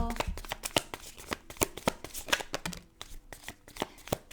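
Tarot cards being shuffled by hand, a steady run of crisp, snapping riffles and slaps close to the microphone, continuous for several seconds with no talking.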